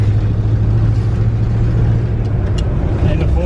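A 1961 Ford F250 truck engine runs loud and close, a steady low rumble that holds through a gear change, with no distinct rev peaks.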